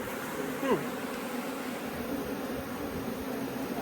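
A honeybee carrying dandelion pollen buzzes close by, a soft continuous hum with a brief rising whine as it moves, over quiet outdoor background.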